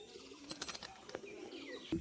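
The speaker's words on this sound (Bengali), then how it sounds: "দুটো পায়রা নিচে বাজির পায়রা" Fancy flying pigeons kept for sale give faint, scattered coos and short chirps in a quiet setting, a few soft calls spread across the moment.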